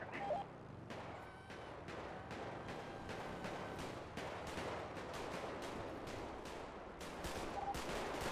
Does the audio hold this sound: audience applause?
no